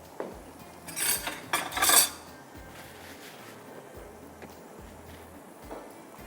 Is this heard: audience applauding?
no